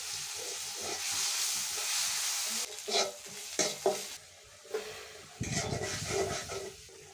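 Garlic sizzling and frying in hot oil while being stirred in a home kitchen, a steady hiss broken by scraping stirs and a louder burst of sizzle near the end.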